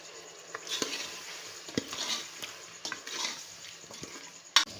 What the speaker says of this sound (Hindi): ये स्पाइसेस हम इसमें शामिल कर देंगे और अच्छे तरीके से फ्राई करेंगे इन्हें।